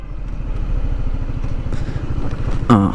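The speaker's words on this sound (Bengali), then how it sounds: "And the exhaust note is গ্রোলিং। The bike is literally গ্রোলিং।" A Honda CBR 150R sports motorcycle runs with a steady, throbbing exhaust note close by, a low pulsing engine rhythm that keeps up throughout, and a brief clattering burst comes near the end.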